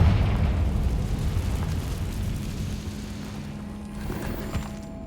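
A Confringo fire spell bursts in Hogwarts Legacy, a loud booming blast at the start that rolls into a long rumbling decay, with small pops and a faint thud near the end.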